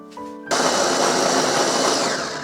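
An electric blender starts abruptly and grinds chili, onion, ginger and pear for kimchi paste, giving a loud, steady, whirring roar up close. A brief quieter motor hum comes just before it.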